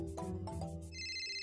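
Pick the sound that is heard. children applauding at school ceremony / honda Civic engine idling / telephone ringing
telephone ringing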